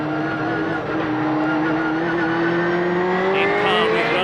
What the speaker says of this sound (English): And John Welch is into the second gear chicane.